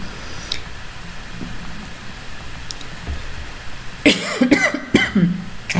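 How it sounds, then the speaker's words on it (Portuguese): A few sharp coughs near the end, close by, after several seconds of quiet room noise. "Desculpa a tosse aí, gente. Não é coronavírus não, tá?"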